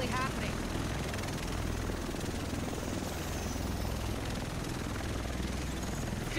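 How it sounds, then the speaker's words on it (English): A helicopter in the video game Tom Clancy's The Division arrives with a loud, steady rotor roar that fills the whole stretch without letup. "The rest of us should be in this chopper."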